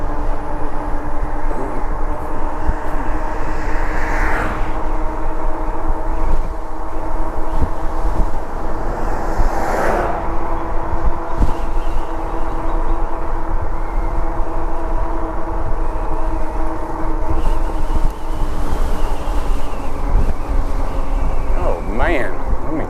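Strong wind buffets a rider on an e-bike, a steady broadband roar and rumble that continues for the whole stretch without letting up.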